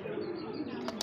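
Racer pigeons coo softly in a low, murmuring purr lasting about a second, faint and close, with a brief higher chirp near the end.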